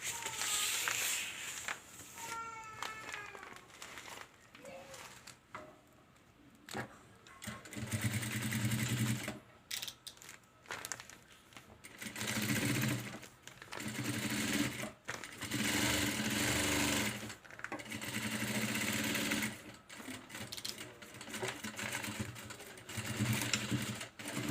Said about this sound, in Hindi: इसके बाद हमें पाइपिंग के कॉर्नर पे यहाँ पे सेंटर में एक सिलाई लगानी है